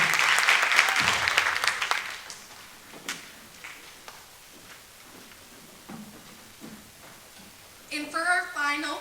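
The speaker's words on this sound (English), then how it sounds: "Please give them a round of applause" Concert audience applause at a spring music concert bursts out loudly, then thins into scattered claps and fades. A voice speaks near the end.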